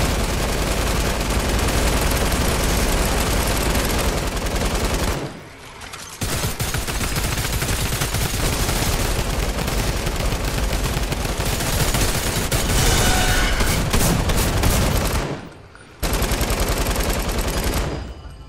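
Sustained automatic gunfire from an underwater survival video game, a dense continuous rattle of rapid shots that fills the clip, breaking off briefly twice before resuming at full loudness.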